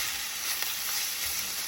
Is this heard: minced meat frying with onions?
yes